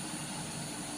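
A Mitsubishi Canter Super HDX truck under a heavy load drones steadily as it accelerates uphill, a loud, continuous engine roar close by.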